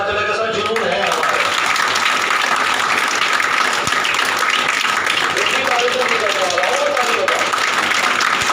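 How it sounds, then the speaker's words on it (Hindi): Loud, sustained applause fills the whole stretch from a crowd of class 11 and 12 science students at a training session, a dense, steady roar of clapping with faint voices mixed in. "जोरदार तालियां बजाओ तो मुझे पता चले कैसा जुनून है हमारे।"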